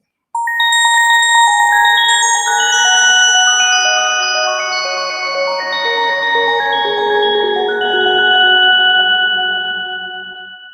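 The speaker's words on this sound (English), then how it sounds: "So the marimba is a bell-like kind of sound" A marimba patch on a Korg opsix digital synthesizer plays a stream of bright, bell-like struck notes that ring and overlap in a sustained melodic run, loud and clear with no voices.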